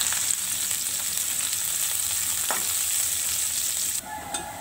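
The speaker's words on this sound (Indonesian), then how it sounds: "Setelah udah panas, masukkan bawang putihnya." Garlic sizzles steadily in hot oil in a heated wok while preparing a stir-fry, a dense, loud crackling hiss that continues throughout, with a brief stirring scrape near the end and no talking.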